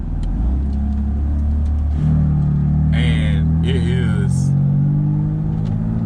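A BMW M4 fitted with a VRSF single mid pipe rumbles at idle and then blips its revs in short bursts, loud and close, while someone talks over it.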